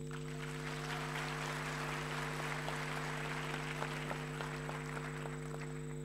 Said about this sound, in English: Can we give UJ a huge applause, please?